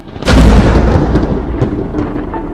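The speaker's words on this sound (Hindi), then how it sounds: "तभी जोरदार बिजली कड़कती है और सारा माहौल एकदम से बदल जाती है" A loud thunder clap during a storm cracks in abruptly and then rolls on as a sustained, heavy rumble with no voices present.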